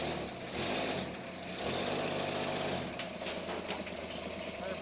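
An old, long-abandoned Chevrolet Nova engine running, a rough, rumbling idle with low knocking that swells as it is revved, then settles, with faint talk in the background.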